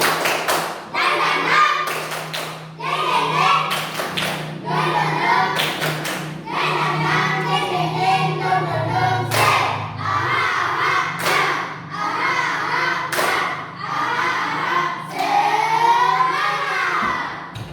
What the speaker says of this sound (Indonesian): Tepuk semangatnya dulu. Tepuk semangat dan dingdong.